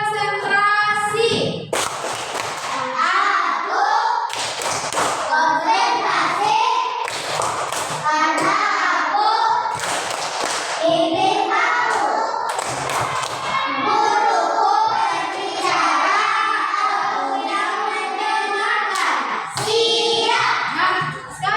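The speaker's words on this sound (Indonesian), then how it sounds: "Tepuk konsentrasi." Schoolchildren in a classroom perform a patterned concentration clapping routine, rhythmic claps and chanted voices repeating in bursts throughout, loud and close.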